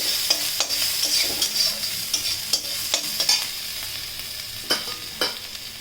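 Ginger and onion stir-fried in a pan with dried chilli, making a soft sizzle broken by sharp, irregular clacks of a spatula scraping and tossing, near and wordless.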